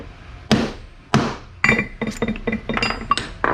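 Several sharp metallic hammer blows on a metal punch ring out, spaced about half a second apart at first, then a quicker run of lighter taps close by, marking a Delta-Rockwell band saw part for drilling.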